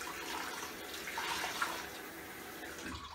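Warm tap water runs steadily into a sink while a washcloth is soaked, a soft continuous splashing hiss at low level with no voices.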